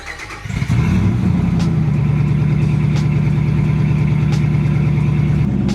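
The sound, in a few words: 2020 Dodge Ram pickup V8 engine starting and idling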